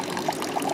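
Water pours from a ladle at a shrine purification basin, a close, steady splashing stream lasting under a second.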